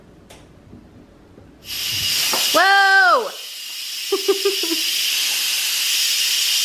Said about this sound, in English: Turn the steam release handle to the venting position to let steam out.